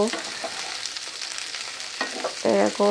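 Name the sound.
frying flat beans (shim) in a pan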